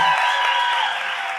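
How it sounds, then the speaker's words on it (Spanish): Brief, dense audience applause for a couple in a television studio, a steady wash of clapping that fades slightly by the end. "Un aplauso para esta hermosa pareja."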